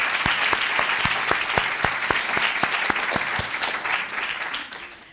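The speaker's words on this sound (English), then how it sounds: "we need to give a round of applause to both of these sides" An audience applauds both debate teams, a dense burst of clapping from a crowd that stays loud and steady before tapering off at the end.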